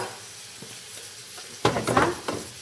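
Cumin seeds being stirred and roasted in a pan, a quiet hiss first, then a burst of louder scraping and stirring clatter with sizzle over the last second.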